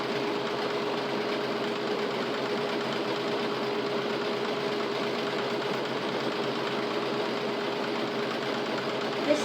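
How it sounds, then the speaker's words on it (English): A sewing machine runs continuously, stitching fabric for cushion or mattress covers, with a steady even whir and rapid needle chatter throughout at moderate loudness. "This is a very slow process, sewing this"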